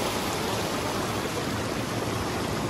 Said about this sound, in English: Water coming out of it.